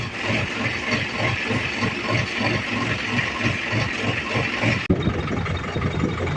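A tractor engine idles nearby in the rain with a steady, rhythmic low thumping and mechanical rattle that carries on without a break.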